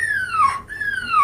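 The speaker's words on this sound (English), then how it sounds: "it sounds like Sailor wanting to go outside" A dog named Sailor, wanting to go outside, gives two long, high whines, each sliding downward in pitch with a brief pause between them, close and fairly loud with no talk.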